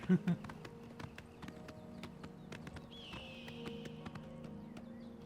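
Horse hooves clip-clop steadily as the horse climbs a steep road in the video game Oblivion Remastered, with close, regular hoofbeats over a soft game ambience.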